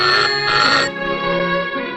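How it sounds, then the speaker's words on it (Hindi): A telephone in the Hindi film Barood gives a loud, close ring of about two short bursts that then fade away, with no voices. "मैं नेवल हेडक्वार्टर पर अभी एडमिरल मुखर्जी को फोन करता हूँ।"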